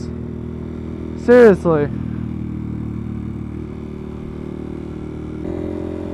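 A Honda Grom motorcycle fitted with a CBR600 exhaust idles steadily, with a sharp rev burst and a brief second blip partway through, while a voice speaks briefly nearby.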